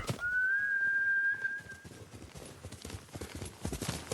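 Horse hooves clip-clop steadily in Ghost of Tsushima as the mount scrambles uphill, a quick close patter of steps with a high whistling tone over the first stretch.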